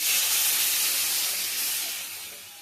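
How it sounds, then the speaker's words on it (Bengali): Water poured into a hot pan of frying potatoes sets off a loud, close burst of steamy hissing that fades gradually over a couple of seconds, with no talk. "এবার দিয়ে দেবো জল।"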